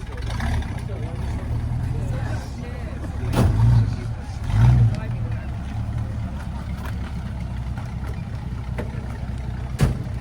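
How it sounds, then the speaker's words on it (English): A classic Ford Mustang convertible's V8 idles at a car and bike breakfast meet, a steady low rumble with a couple of brief swells, with outdoor background and speech-like noise around it. "we have a classic Mustang convertible here that's just fired up to roll out. Let's get a little bit of that V8. Beautiful idle on that."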